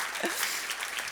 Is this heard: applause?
yes